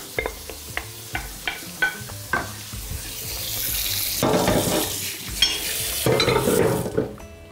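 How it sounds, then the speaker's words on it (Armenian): A spoon scrapes and taps in a pan with several rhythmic strokes, then a loud sizzle of food frying rises and swells, with occasional stirring. "Սա լցնում ենք սոխարացի վրա և տապակում ենք։"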